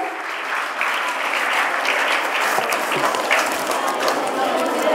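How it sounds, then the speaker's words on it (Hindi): Loud, sustained applause from a crowd at a school Children's Day celebration, steady clapping filling the whole stretch without pause. "जोरदार तालियों से सबका स्वागत करेंगे।"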